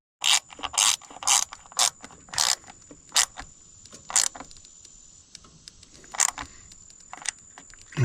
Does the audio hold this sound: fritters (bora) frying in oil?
no